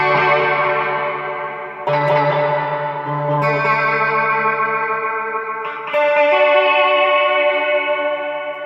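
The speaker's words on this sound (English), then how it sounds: "Pre-delay. Let's try turning that down, see how that sounds" Sustained synth-like chords drenched in reverb with pre-delay turned down on a Zoom MultiStomp, shifting a few times with abrupt changes, the wash of echo filling the gaps; no talking.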